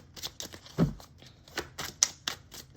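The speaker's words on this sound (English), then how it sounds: "have you seen this shuffling job I've been doing?" Tarot cards being shuffled up close: crisp slaps and papery riffles in an irregular rhythm, with short quiet gaps between.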